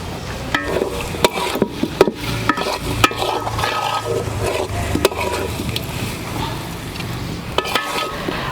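Spices and vegetables for temple-style vegetarian bhoger khichuri sauté in a pot, with a steady low sizzle under repeated scraping and clinking of a spoon against the pan, close and continuous.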